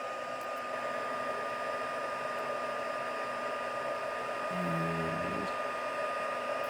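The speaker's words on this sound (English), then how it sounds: "we'll warm up my heat tool" Heat tool blowing hot air to melt embossing powder on a patriotic card background, a steady, close, whooshing hiss throughout with a brief low tonal hum near the end.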